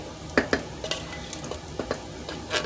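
Chili beans go into a pot of baked bean chili and are stirred, with soft wet squelches, spoon scrapes and light clinks against the pot in an irregular rhythm, plus a faint sizzle underneath.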